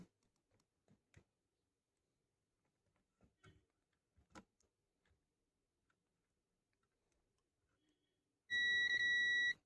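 Faint clicks and taps, then a steady high-pitched electronic beep sounds at the end, loud and continuous, from a multimeter's continuity tone while testing a coil.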